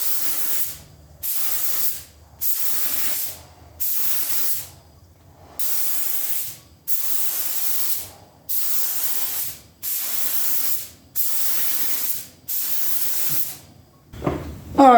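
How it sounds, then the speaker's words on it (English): Repeated hissing bursts of a spray gun applying Rust-Oleum paint, about ten even passes of roughly a second each separated by short pauses, close and steady. "let's get spraying"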